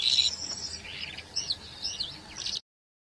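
A Calandra Lark sings a run of bright, high chirps and trilled warbles, close and clear, with nothing else heard and no voices, before the song cuts off abruptly.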